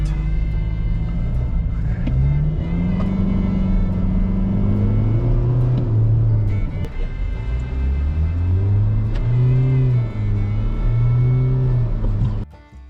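A Toyota Hilux GR-S diesel engine drones loudly from inside the cab while driving, rising and falling in pitch through several gear changes before cutting off abruptly at the end.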